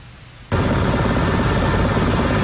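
Rescue helicopters hover over a cruise ship in a storm off Norway's west coast, a loud, steady rotor roar that bursts in abruptly after a brief quiet start and holds at constant strength without voices.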